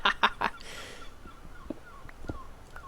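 A bird in the Minecraft modpack Hexxit gives a few quick, loud squawking calls, followed by a brief whoosh and then sparse, fainter chirps.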